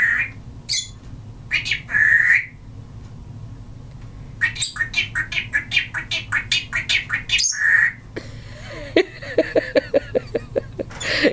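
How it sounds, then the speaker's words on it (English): A pet bird squawks and chirps in loud bursts, with rapid repeated chattering calls in the middle and a series of short sharp chirps toward the end, close to the microphone and without talk. "You are a pretty bird."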